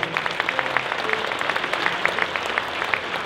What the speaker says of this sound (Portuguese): queria uma grande salva de palmas para o Zé Luís